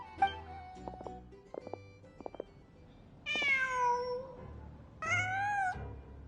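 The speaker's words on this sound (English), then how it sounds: "Huh. Just a cat." A cat meows in a video game: two drawn-out, rising-and-falling meows follow a few soft clicks and taps, clear against a quiet background.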